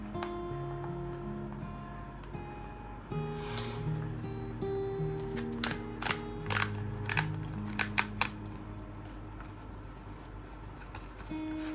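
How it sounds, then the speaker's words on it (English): Box of a Crypto.com Visa card being opened, close rustling, scraping and a run of crisp cardboard clicks and snaps over a low background hum, no talk. "Okay, so now I'm opening the box."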